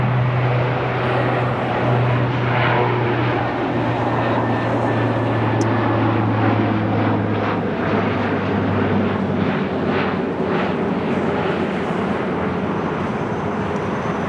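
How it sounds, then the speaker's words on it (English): Military aircraft fly low approaches and touch-and-goes at the Fort Worth Naval Air Station Joint Reserve Base, giving a loud, steady engine roar with a droning hum that holds throughout, without talk. "Doing some training runs, some low approaches, some touch and goes."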